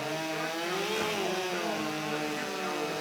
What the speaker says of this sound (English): You really want to be monitoring the RPM, the revs on these saw